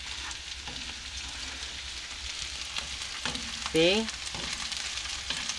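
Eggs fry and get tossed around a hot pan for homemade fried rice, a steady close sizzle with scraping stirs; a brief spoken word cuts in near the end.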